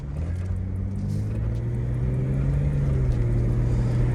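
A second-generation Jeep Cherokee XJ with its 4.0 liter engine drives along, a steady low engine drone and road rumble holding constant throughout, loud and close from inside the cabin, with no talking.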